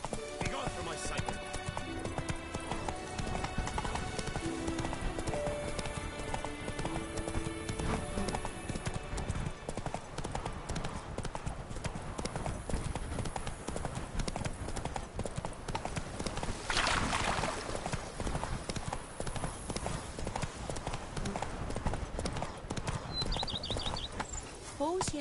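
Horse hooves clip-clop at a steady trot in The Witcher 3 video game, loud and continuous over a music score, with a brief whinny and spoken voices in places.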